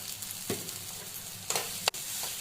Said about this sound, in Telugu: కారం, పసుపు, ధనియాల పొడి, ఉప్పు వేసేసుకొని మంచిగా కలుపుకోండి.